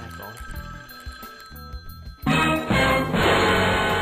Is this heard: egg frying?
no